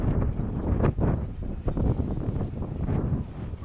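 Strong wind at Agadir Oufella, Morocco, buffets the microphone in a constant low, rumbling roar with uneven gusty surges, close and loud, with no talking.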